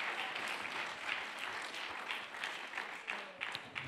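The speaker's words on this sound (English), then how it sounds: "Come, we clap our hands." Church congregation clapping during a Sunday morning worship service, an even, continuous spread of many hands with a few sharper claps standing out near the end.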